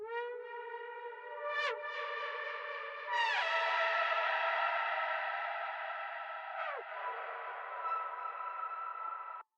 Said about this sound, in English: the reverb's really setting the tone in this situation